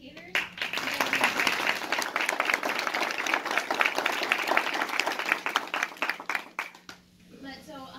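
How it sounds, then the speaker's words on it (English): Audience applause for educators at the 2018 OUTstanding Teacher Awards: dense, sustained clapping from a crowd filling the room for about seven seconds, then tapering off near the end. "give a round of applause to all of our educators."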